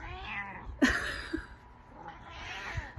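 A cat meows a few times close by during a crochet session at home, with short bright calls rising over a soft background hum and no talking.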